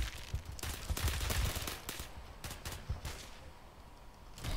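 Rapid gunfire from a Counter-Strike-style Roblox match, a dense burst of overlapping shots and clattering bangs that thins into scattered pops, loud and close with no talk.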